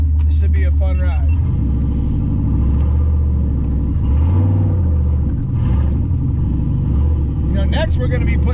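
A Foxbody Mustang with a GT40 turbo engine pulls hard under boost, its loud, steady rumbling drone filling the cabin from start to finish while a voice talks over it.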